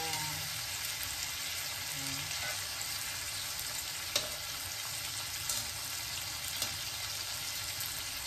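Chicken pieces browning in a pan of hot oil for a Filipino-style chicken curry, with a steady, even sizzle and crackle that runs unbroken and close throughout, and a few sharper pops and stirring scrapes along the way.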